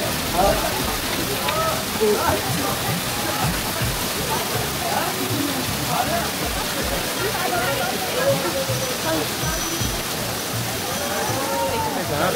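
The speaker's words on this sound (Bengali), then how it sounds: "ওই যে ঝর্ণা আসছে, ওই ঝর্ণার জলগুলো" Water from a waterfall at the Muktinath temple pours in a steady, dense rush like heavy rain, loud and close throughout, with people talking under it.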